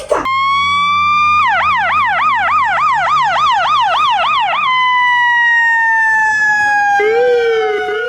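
An ambulance siren blares loud and close, moving from a steady rising wail into a fast warbling yelp and then back to a long sustained tone, with no voices.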